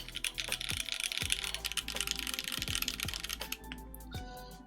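Close keystrokes on a Manta mechanical keyboard, rapid continuous clacking with slightly uneven rhythm, alone without talk over a soft musical backdrop.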